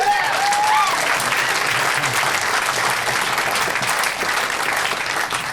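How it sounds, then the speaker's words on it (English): Sustained applause from an audience at a broadcasters hall of fame induction honoring Les Paul, dense and steady clapping filling the room with faint crowd murmur. "which I think is a nice round of applause"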